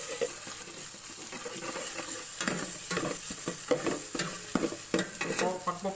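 Onions sizzle and are stirred in star margarine in a pan for Filipino sisig, a steady close frying hiss broken by repeated scraping stir strokes, with no talk.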